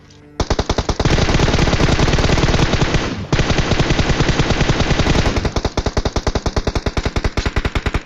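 Loud sustained automatic gunfire in PUBG Mobile, coming from behind, dense rapid bursts with a brief break, then slower distinct shots at the end.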